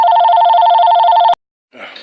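A telephone rings with a steady, loud electronic trill for about a second and a half, then stops abruptly; after a short silence a faint rustle follows.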